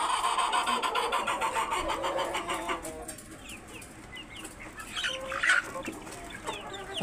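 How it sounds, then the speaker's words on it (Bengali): Young cockerels about two months and ten days old on a poultry farm keep up a busy chorus of clucks and calls, with a few sharper squawks and brief wing flaps near the end. "10 দিনের মোরগ বাচ্চা"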